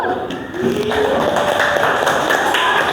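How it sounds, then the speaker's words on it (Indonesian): Classmates clap for a student during an Islamic religious education lesson in an Indonesian classroom, a dense, steady patter of many hands held close for about three seconds, with voices mixed in underneath. "Tepuk tangan untuk Ayu."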